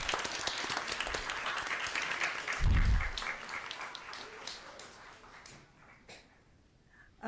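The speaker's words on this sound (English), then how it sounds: "Let's give him another round of applause." Applause from the audience at a school district governing board meeting, a dense patter of many hands clapping at moderate distance that gradually thins out and fades to a few last claps.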